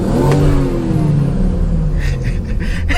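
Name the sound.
tuned BMW with B58 engine revving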